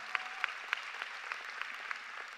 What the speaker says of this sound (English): So give yourself a round of applause for fighting through that.